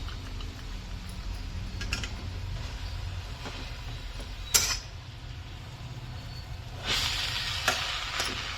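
Chickpea leaf greens with peanut paste frying in a pan, a steady low sizzle broken by occasional scraping clinks of the spoon as the mixture is stirred.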